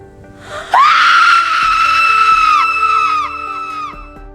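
A woman's shrill, sustained scream rises sharply and holds for about two seconds before breaking into a wavering, trailing wail, loud and close over a dark dramatic underscore.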